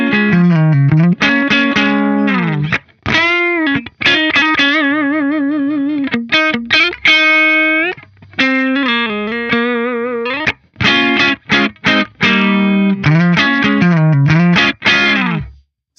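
A PRS SC245 electric guitar through an AX8 with an optical compressor and no reverb plays a distorted, sustained lead line with bent notes and abrupt, dry stops between phrases, loud and close.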